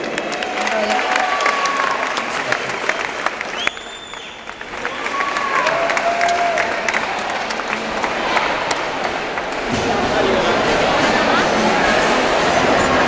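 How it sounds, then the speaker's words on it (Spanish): Steady applause from a large crowd fills the space, a dense wash of clapping that continues throughout with a brief dip partway. "un fort aplaudiment"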